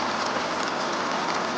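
Steady rain falling, a dense even hiss of drops throughout with no pauses and no voices.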